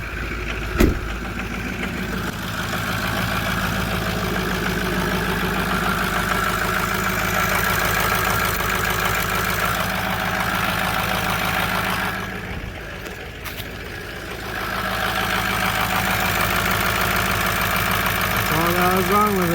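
A small glow-plug engine idling steadily after being started, a continuous buzzing drone held at a fairly even level, with a brief dip partway through before it settles back to its idle.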